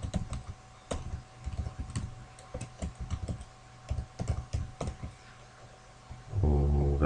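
Keys clatter in irregular bursts as data is typed on a computer keyboard, close and clear, ending in a louder low rumble near the close.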